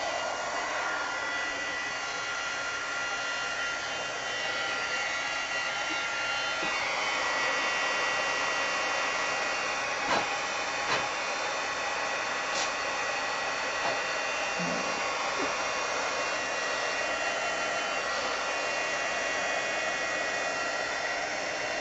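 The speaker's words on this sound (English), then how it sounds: "you don't want to cover the edge of your heat tool because that's the fan on either side" Fan of an embossing heat tool blowing steadily, a close, even rushing hiss that holds without a break from start to finish.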